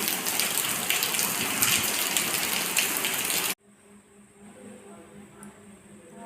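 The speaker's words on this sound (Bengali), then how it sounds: "রাতের দিকে প্রচুর বৃষ্টি আরম্ভ হয়েছে বৃষ্টি করছে খুবই" Dense, steady rain pours down loudly at night for a few seconds, then cuts off abruptly to a much quieter background hum.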